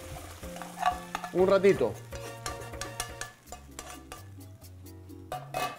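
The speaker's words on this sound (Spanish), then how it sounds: "Porque quiero sellar mi carne. No quiero que se sancoche." Minced meat searing in a pan for Peruvian papa rellena, a sizzle under clinking utensils and stirring scrapes, with a brief spoken remark early on.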